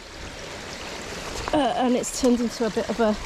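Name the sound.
water running over a woodland path like a waterfall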